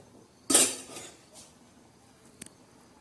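A metal lid is set down on a pot of chicken biryani with one sharp clanking hit, followed by a few faint, brief clinks and a small tap.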